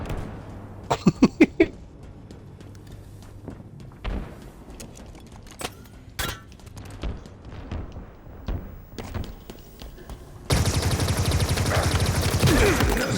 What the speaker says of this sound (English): I love the needler. It's like a fucking gun made out of light tubes.